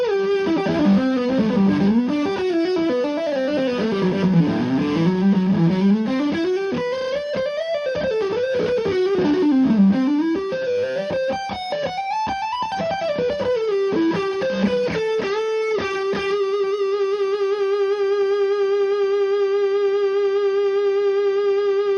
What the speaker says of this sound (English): Now let's bring it back to where it was meant to be,